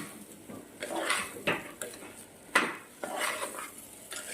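A spoon scrapes and knocks repeatedly against a pan while stirring rice for tomato rice, in an irregular rhythm of sharp clinks and gritty scraping.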